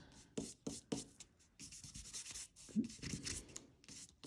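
Gilding paste rubbed by hand onto a surface makes soft, close scratchy rubbing strokes, a few quick swipes at first and then a longer run of continuous rubbing, all quiet and with no talking.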